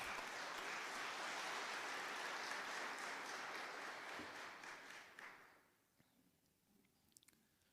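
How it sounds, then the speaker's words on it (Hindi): A church congregation claps in thanksgiving during a Hindi-language worship service; a broad wash of applause holds steady for about five seconds, then dies away quickly, leaving a quiet room with a few scattered sounds. "तालियां बजाएं और उसको धन्यवाद दें।"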